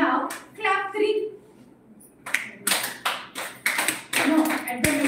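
Pupils in a school class clap together in a counted pattern, first talking, then a run of crisp group claps in quick succession, loud and close.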